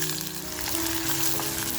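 Onion frying in oil inside a pressure cooker for mutton masala, a steady close sizzle with faint stirring, continuous and even, with no voices over it.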